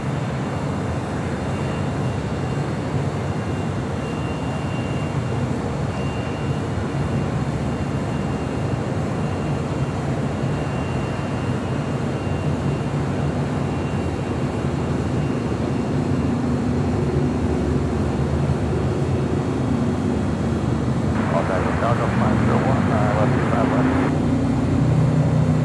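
Japan Airlines Boeing 787-8 Dreamliner arriving at LAX, a distant, steady jet rumble and whine that builds slightly toward the end, with faint radio chatter and background noise mixed in.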